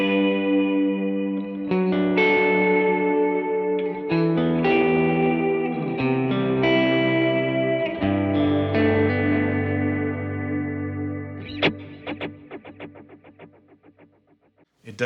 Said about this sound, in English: Now I wanna show you the two Helix delays that we have dialed in.